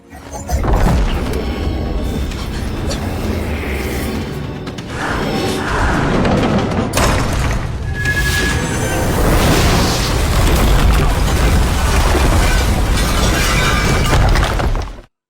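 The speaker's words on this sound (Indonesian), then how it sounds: "mengubahnya menjadi ledakan energi yang sangat besar" A huge, sustained roaring blast with crashing and shattering debris, loud and continuous for many seconds before cutting off abruptly.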